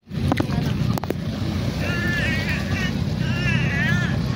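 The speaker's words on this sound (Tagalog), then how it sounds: "Ayan na, naglalabasan na yung mga bangka." A steady outrigger fishing boat motor drones amid wind buffeting the microphone, with a voice speaking briefly over the engine noise, as boats head out to sea from a beach in Lemery, Batangas.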